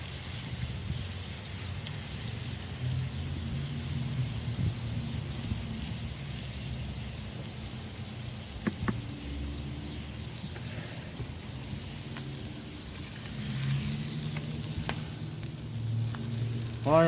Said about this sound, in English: I'm going to throw a whole stick of butter down in there and get it to melt.